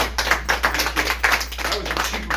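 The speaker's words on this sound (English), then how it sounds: "That was a cheap applause." Applause from a small audience, a scattered, uneven patter of hand claps at moderate volume, steady for a couple of seconds with no talking over it.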